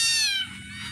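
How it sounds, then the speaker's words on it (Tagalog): One of three small kittens gives a single high, drawn-out meow, close and clear with nothing else heard. "Ayan, 3 kuting na yan."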